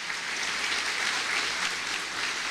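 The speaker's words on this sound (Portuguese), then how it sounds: "Aplauda bem forte ao Senhor" A church congregation applauding at a worship service, a steady wash of many hands clapping together at moderate level with no talk over it.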